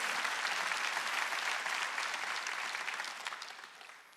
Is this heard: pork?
no